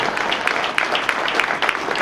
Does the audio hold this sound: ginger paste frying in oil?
no